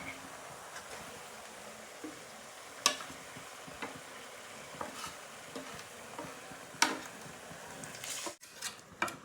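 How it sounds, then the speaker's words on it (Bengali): Spices frying for a chicken curry, a steady close sizzle in the pan broken by occasional scrapes and knocks of the spoon as the masala is stirred. "মশলাগুলোকে কষিয়ে নিলাম।"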